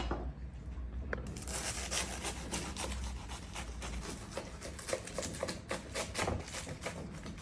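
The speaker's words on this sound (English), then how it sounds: "It's so much better to use a serrated knife." A serrated knife saws through a potato and cheese tart in quick, faint, rhythmic rasping strokes, close up and quiet, with no talk.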